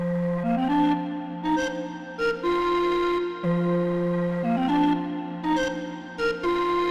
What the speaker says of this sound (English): let's try another one here, a little sort of breathy one called Breather.